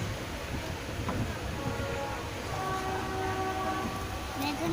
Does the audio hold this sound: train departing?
yes